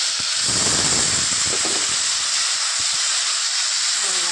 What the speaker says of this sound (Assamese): মই ইয়াতে অকণমান পানী দিছোঁ